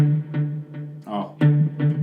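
Short electric guitar phrase through a Yamaha THR10 amp with delay added, distinct plucked notes trailing into repeats, close and moderately loud with no voice.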